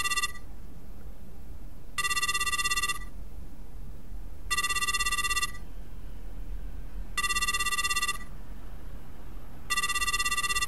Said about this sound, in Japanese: あ、電話かけたのか。